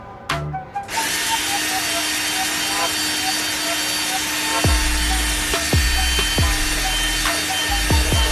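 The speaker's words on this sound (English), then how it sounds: "The only reason why I'm getting a drill and doing this because I'd rather have those 7mm bolts" A power drill bores bolt holes in the rear valence of a Dodge Challenger Daytona 392 during a carbon fiber diffuser install, starting with a whine and then giving several short loud bursts, with someone talking in between.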